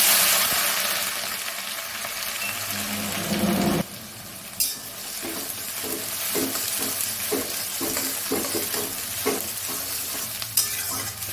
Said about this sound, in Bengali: তেলটা গরম হয়ে গেছে তেলের মধ্যে আমি দিয়ে দেবো দুটো শুকনো লঙ্কা আর পেঁয়াজটা গ্রেট করে রেখেছি দেখুন পেঁয়াজটা দিয়ে